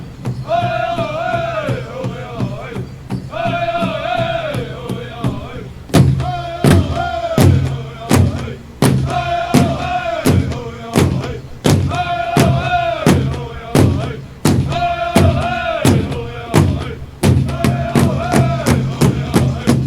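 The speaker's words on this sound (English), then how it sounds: "When they hit that drum differently, gotta back up." Powwow drummers at a tribal homecoming celebration pound a large drum in loud, heavy, evenly spaced beats, with singing voices rising over the rhythm and a crowd around them.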